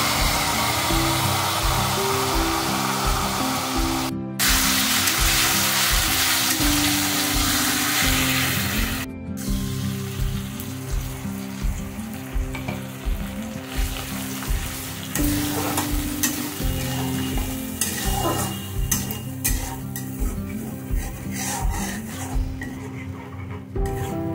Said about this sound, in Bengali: ফোড়নের সাথে ভালো করে মিশিয়ে নেব। ভালো করে মশলাটা কষিয়ে নেব।